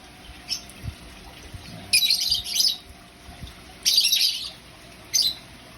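Small birds chirp and squawk in short noisy bursts, a few seconds apart, close by, with quiet background in between.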